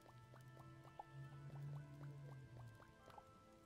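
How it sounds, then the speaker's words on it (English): Water dripping off a character in the Starbound beta video game, a quick series of evenly spaced, plinking drip effects over a steady low hum, close and clear. "Oh, I got water dripping off of me."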